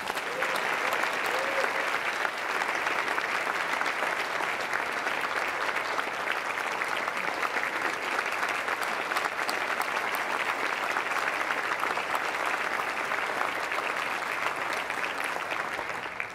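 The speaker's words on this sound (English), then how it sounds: "Please give a round of applause to my life partner, Francis." Sustained audience applause at an awards ceremony, the 2018 Academy of Golden Gators, a continuous even roar of many hands clapping across the hall, moderately loud, with no letup.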